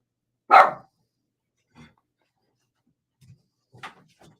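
A dog gives one loud, close bark, followed by a few softer, scattered yips and grumbles with silence between them.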